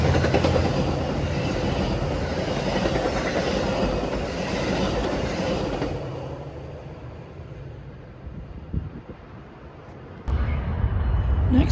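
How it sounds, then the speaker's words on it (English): Metra Milwaukee District West commuter train 2701, hauled by locomotive 413, rumbles through Mannheim with loud rolling wheel noise for several seconds before receding to a quieter hum, then a sudden burst of renewed rumble near the end. "Next, we'd see Milwaukee District West 2701 hauled through Mannheim by Metra 413 Operation Lifesaver Unit."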